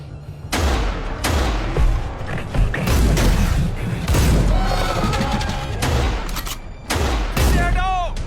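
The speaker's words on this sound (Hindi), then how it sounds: "कवर फायर दो" Covering fire in a movie battle scene: rapid bursts of gunfire and explosive booms crackle throughout, loud and close, with brief shouted voices breaking in between volleys.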